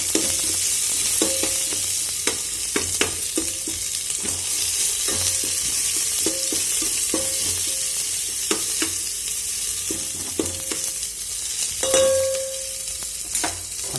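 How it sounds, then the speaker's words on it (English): Chopped onions fry in a pan for a home-cooked paneer tikka biryani, with a steady sizzle and repeated scraping stir strokes throughout, close and moderately loud, with no talking. "And chopped onions into this. So let's stir it for some time."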